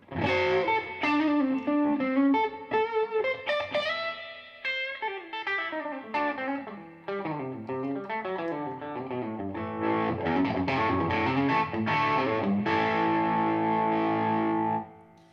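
A distorted electric guitar through a growly tweed amp with reverb plays a busy run of single notes and chords with a gritty, overdriven tone, close and sustained with no talking.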